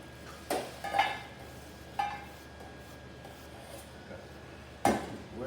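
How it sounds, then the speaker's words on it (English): A knife cuts garlic cloves on a cutting board, giving a few sharp, isolated knocks and clinks spaced apart against a quiet room background. "Where we cut this garlic"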